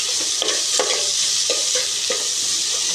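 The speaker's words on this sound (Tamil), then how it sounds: "ஒரு கிளறி விட போகிறோம்" Chicken masala and coriander powder are stirred through a hot pan, a loud steady sizzle punctuated by several spoon scrapes at an uneven rhythm.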